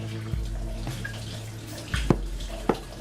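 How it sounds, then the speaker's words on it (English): Hot water poured into a pot of chicken stock being brought back to a boil on the stove, a soft running splash with a few clinks and sharper bursts, fairly close and without speech. "Gonna add a little bit of hot water"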